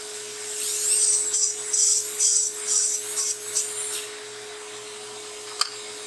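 A dental lab drill fitted with a burr trims and ditches stone dies, letting out several short, high whining bursts in quick succession over a few seconds before falling quiet, followed by a single small click, with no voices.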